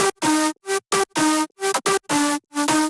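Layered bass house synth chords in FL Studio hit in short, rhythmic stabs with brief gaps between them. Each stab is thick and gritty with heavy distortion and erosion effects.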